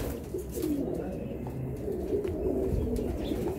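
Soft, low coos of a Teddy dabwali pigeon repeat amid a murmur of other birds, close by and fairly quiet.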